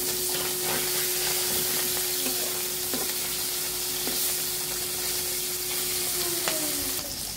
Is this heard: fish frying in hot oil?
yes